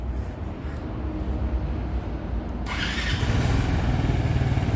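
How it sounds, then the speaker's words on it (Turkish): A Mondial Ressivo 250 motorcycle engine catches and settles into a steady, loud idle partway through, following a lower rumble at the start. "Şimdi motor çalıştı."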